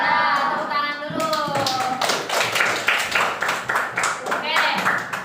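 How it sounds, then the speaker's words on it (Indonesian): A classroom of students claps hands together in a loud burst of fairly rhythmic clapping. A teacher's voice is heard at the start, before the clapping begins. "Nah, tepuk tangan dulu."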